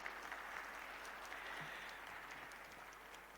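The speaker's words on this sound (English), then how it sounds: "Bigger round of applause then." An audience applauds to welcome author Ashwin Sanghi on stage, a faint, steady wash of distant clapping that slowly tapers off.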